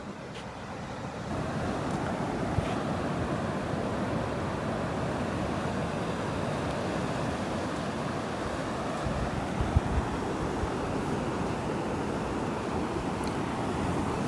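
Steady roar of ocean surf at Pawleys Island, two-to-three-foot waves breaking and washing continuously with a bit of wind noise, no voices.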